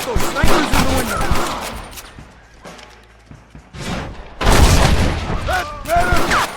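Gunfire in the Red Dead Redemption video game, where a gunfight against window snipers brings repeated booming shots and heavy thuds mixed with shouting voices and game effects.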